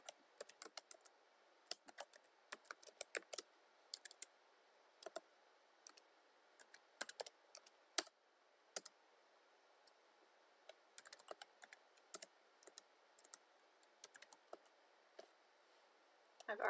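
Close, quiet bursts of typing on a computer keyboard, quick clustered keystrokes and clicks separated by short pauses, as a text string is entered into an IO-Link master setup.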